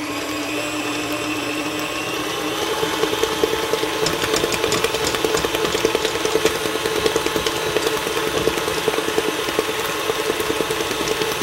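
A stand mixer's paddle beats royal icing in a steady, loud motor whir with a rhythmic churning pulse that picks up partway through, running alone without talk.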